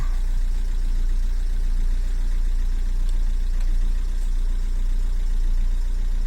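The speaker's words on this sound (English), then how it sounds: "Poor bloody car's just running on the power the alternator's chucking out" A Fiat Panda 1.3L Multijet diesel engine idles steadily and loudly close by, a constant low rumble without revving, running off alternator power with no talking.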